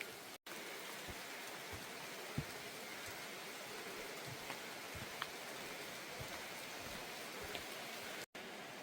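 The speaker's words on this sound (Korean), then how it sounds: "비가 제법 내립니다." Steady rain falls during a mountain hike, a constant hiss of drops with scattered soft patters and taps, close and even throughout with no voices.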